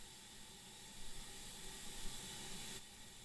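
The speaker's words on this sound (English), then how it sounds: "You'll be driving this Stania Class 8F steam locomotive." Steady steam hiss from a Stanier Class 8F steam locomotive in the Train Sim World 5 video game, a continuous broadband rush at moderate level with slight swells, no voices over it.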